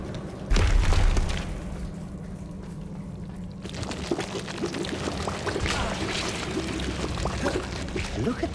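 A Bombarda blasting spell goes off in the wizarding game Hogwarts Legacy as a single loud burst followed by a rumbling crash, then a long spell of scattered debris clatter and rubble settling.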